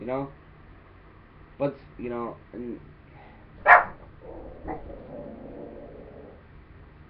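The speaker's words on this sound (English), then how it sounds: "Sorry, that was my dog." A dog barks a few times indoors in a quiet room, sharp loud yaps standing out between bits of a man's speech, with one especially strong bark midway.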